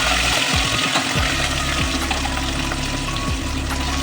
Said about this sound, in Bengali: তারপর একটা একটা মাছ ছাড়তে থাকবো তেলের মধ্যে যাতে মাছগুলো ভেঙে না যায় আর ভালোভাবে ভাজা হয়